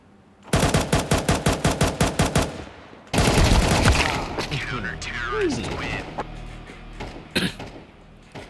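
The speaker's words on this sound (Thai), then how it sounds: "ยิงเป็นนั้นเลยตึงตึงตึงตึง" Rapid, evenly spaced gunshots rattle out in Counter-Strike 2, a loud burst of about a dozen close shots, followed by a clattering mix of impacts and someone talking.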